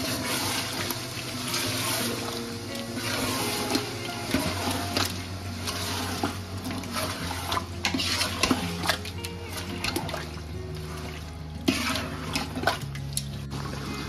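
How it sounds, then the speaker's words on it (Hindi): Mutton and onions mixed in a large pot for a big batch of achari, continuous wet churning and sloshing with frequent metallic scrapes and knocks of the spoon against the vessel, close and busy, no voices. "गोश्त डालने के बाद एक बार अच्छी तरीके से इसको मिक्स कर देंगे हम"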